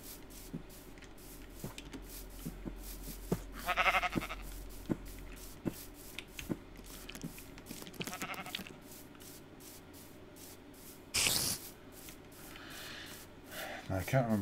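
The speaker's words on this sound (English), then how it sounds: "Oh, we got sheep." Sheep in the video game Minecraft give several short bleats spaced a few seconds apart, fairly faint under someone talking, with soft clicks scattered throughout.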